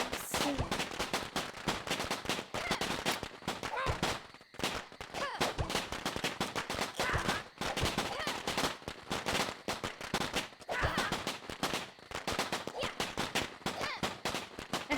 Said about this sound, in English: Alright, that is all of my fireworks.